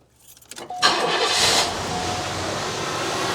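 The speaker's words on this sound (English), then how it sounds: "So let me go ahead and fire the car up now." A car's engine cranks briefly, then catches with a loud burst and settles into a steady idle, with a rich exhaust smoke test and power balance test underway on the car.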